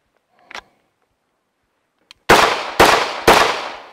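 Three loud, sharp handgun shots fired one-handed in a fast draw-and-fire shooting drill, evenly spaced about half a second apart, preceded by faint holster clicks.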